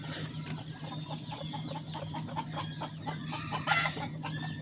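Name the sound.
hen clucking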